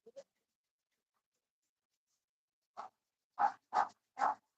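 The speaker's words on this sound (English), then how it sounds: "Dogs are barking." Dogs barking indoors in a home, a short pair of yelps followed by a pause and then four sharp barks in quick succession, moderately distant and alone.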